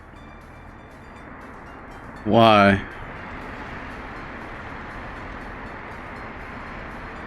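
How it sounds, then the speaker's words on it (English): Trains in the video game Workers & Resources: Soviet Republic give a steady, even rumble that runs through the whole stretch, with a brief spoken word cutting in near the start. "Oh, we got trains backed up."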